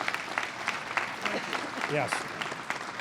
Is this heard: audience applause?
yes